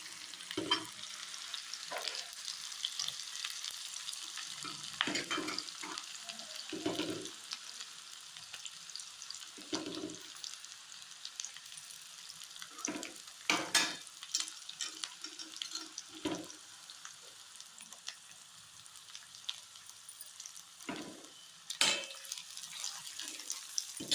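Onions frying quietly in a pan while a utensil stirs them, giving scattered scraping clacks over a soft, low sizzle for most of the time with no one speaking.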